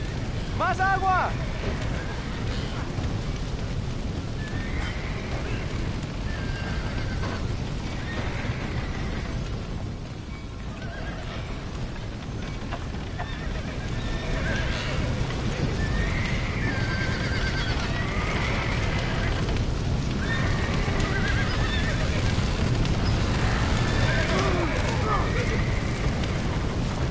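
Horses neigh and whinny amid a roaring fire in the Red Dead Redemption video game, with repeated shrill cries over a constant loud rumble and hooves clopping.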